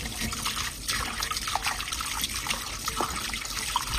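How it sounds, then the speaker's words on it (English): Pork spare ribs rinsed under running water, a steady trickle and splash from a tap that continues evenly throughout, close and moderately loud with no talking. "Then rinse."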